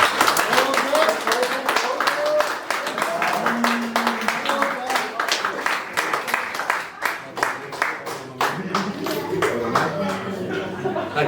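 An audience claps and cheers for the team captain at a team presentation evening, with dense, loud, sustained applause throughout and voices calling out within the crowd.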